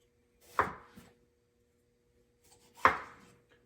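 Two sharp knife chops through tomatoes on a cutting board, spaced about two seconds apart, each a crisp close thunk with a short tail, set against otherwise quiet surroundings.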